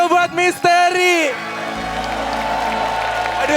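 Studio audience applause at a talent show, breaking out after a loud voice and continuing as a steady dense wash of clapping and crowd noise.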